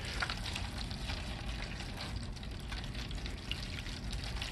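Hot water is poured onto seed starting potting mix, a steady close hiss and gurgle of liquid soaking in, continuous and fairly soft.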